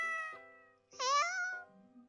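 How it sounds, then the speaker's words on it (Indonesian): A single clear cat meow rises and falls close by, set against a steady tonal hum in the background. "Ada kucing."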